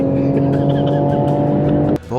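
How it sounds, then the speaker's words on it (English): A fast car drives close by with a loud, sustained engine drone that holds steady, then briefly drops before revving back up, while a voice talks over it. "drive a fast car"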